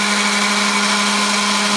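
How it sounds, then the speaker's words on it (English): A small 9-volt drill motor runs flat out at about 740 RPM, giving a loud, constant, steady whine with no change in pitch or speed and no talking. "It's about as fast as this drill motor will go."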